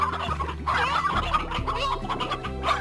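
Chickens in the video game Slime Rancher cluck repeatedly in short, uneven bursts, close and fairly loud, over a low game background hum.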